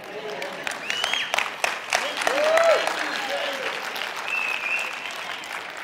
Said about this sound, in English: I love this section over here. This is the clapping section.